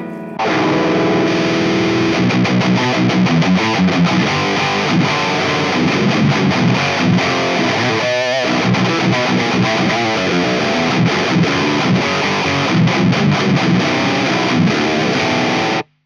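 An electric guitar plays a metal riff through a distortion preamp with graphic EQ, heavily saturated and loud, with chugging palm-muted rhythm and sustained chords throughout.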